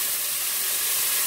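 Tomato goes into a hot pot for Guyanese red peas cook-up rice, giving a steady bright hiss of sizzling steam, loud and close, without pause.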